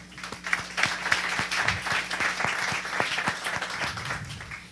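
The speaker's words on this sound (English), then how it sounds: "Let's give him a round of applause." Sustained applause from a conference audience, dense even clapping that holds steady for several seconds and stands alone with no talking over it.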